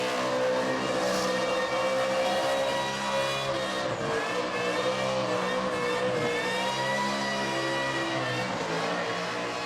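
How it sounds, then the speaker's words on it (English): A loud supercharged engine on a car at Summernats, an Australian car festival, whines continuously, its high blower scream layered over a roaring motor that rises and falls slightly throughout. "the blower whine is most notably the loudest that we hear of anyone"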